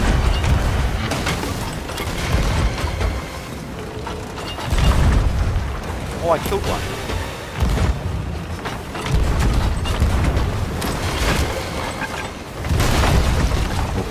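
Cannon fire during a Sea of Thieves pirate game: several heavy booms spaced a few seconds apart, mixed with creaking and mechanical ship sounds, with a brief voice over it.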